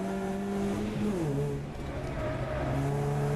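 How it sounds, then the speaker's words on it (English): Alfa Romeo race car engine at Anglesey circuit, loud and steady with shifting harmonic pitch as it rounds the last turn, heard close from in-car throughout. "in car with Tom, comes around the last turn, a little bit wide there"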